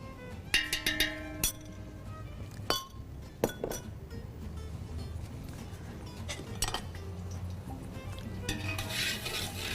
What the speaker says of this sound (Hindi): इसे भून लेंगे पहले, अच्छा सा भुनना चाहिए।